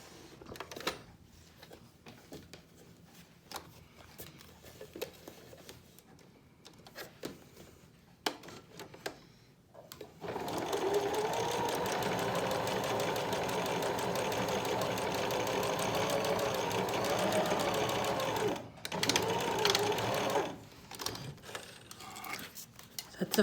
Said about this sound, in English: I'm going to sew across here, turn it over, sew across here.